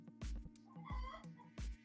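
A hen's egg song: loud bursts of cackling after laying, three strong calls with softer clucks in between, close to the listener over a steady low hum.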